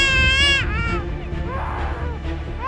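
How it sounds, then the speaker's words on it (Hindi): A black-collared starling gives loud, wailing calls that sound like a small child crying hard, a string of rising and falling cries up close that fill the whole moment. "Black collared starling. इस पक्षी की आवाज ऐसी है जैसे कोई छोटा बच्चा जोर जोर से रो रहा हो।"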